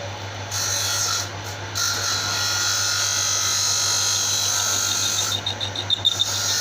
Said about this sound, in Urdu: اس کے اندر خراد مشین سے بور کیا جائے گا